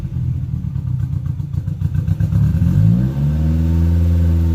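A 2019 Chevrolet Camaro SS V8 with secondary catalytic converters removed rumbles and clatters at idle, then the exhaust rises into a rising rev that settles into a loud, steady drone close by.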